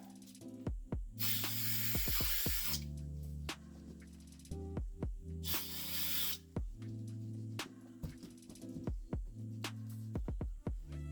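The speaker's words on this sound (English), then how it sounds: "let's clean the bearings first. Little degreaser." Two long hissing bursts of degreaser spray onto the bearings of a 1992 Trek bicycle, each lasting over a second, between clicks, taps and handling noises in a quiet workshop.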